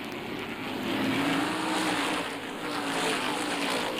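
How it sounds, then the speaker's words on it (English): Stock car racing engines, modified cars at Wall Stadium in Belmar, New Jersey, make a continuous, steady roar that swells slightly, heard from the stands with no talking. "the sounds of stock car racing are heard as the top drivers with the fastest cars meet and compete"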